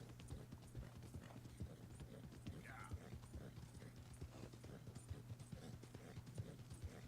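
Horse hooves clip-clop steadily in a video game, a rapid train of light hollow knocks throughout over a constant low hum, with faint background talk.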